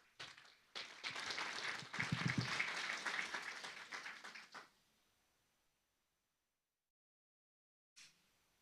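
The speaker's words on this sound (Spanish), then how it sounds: "Nos vamos a recibir con un aplauso al coro." A congregation at a Sunday church service applauds the choir, several seconds of moderate clapping in a room that fades to silence, followed by a short sound near the end.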